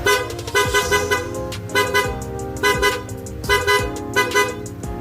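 Repeated car horn honks in a rhythmic pattern, several short bursts in regular groups, loud and close, with an engine-like hum underneath; the horn sounds together with a yellow passing light.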